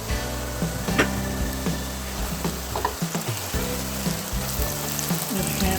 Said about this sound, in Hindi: थोड़ा सा इसको पकाएंगे ताकि लहसुन अदरक कच्चा ना रहे अंदर